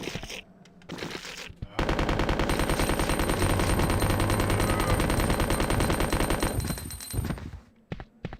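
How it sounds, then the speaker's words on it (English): A Resident Evil 2 submachine gun with infinite ammo fires in one long, rapid, unbroken burst for about five seconds, loud and close, with brief quieter moments before and after. "Who does not want to come through Resident Evil 2 with an infinite submachine gun?"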